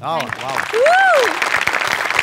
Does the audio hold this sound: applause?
yes